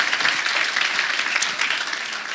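An audience at a talk, including young people seated on the floor, applauds in a brief, dense burst of clapping that holds steady for a couple of seconds.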